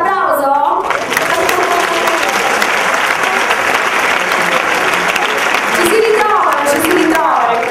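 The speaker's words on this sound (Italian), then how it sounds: "No, qui c'è l'applauso." A large crowd breaks into loud, sustained applause that fills several seconds, with voices speaking briefly before it and as it fades.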